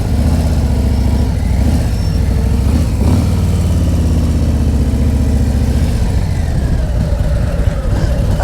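A motorcycle engine idles steadily with a deep, continuous rumble, close and loud, holding an even tone throughout, during tight U-turn practice.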